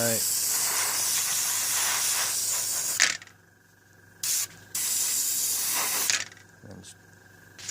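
Airbrush spraying Tamiya paint onto a scale model at the pre-shade stage, a steady close hiss lasting about three seconds, then stopping and restarting in short bursts with quiet gaps between.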